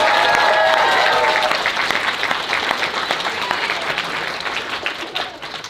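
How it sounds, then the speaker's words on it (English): Audience at a Seneca College 2D animation cartoon premiere applauds faculty, with a dense burst of clapping and a few cheers that gradually thins and fades. "let's give a big round of applause for Marc Jones, for Kurt Muller, for David Agnew, for Sean Craig"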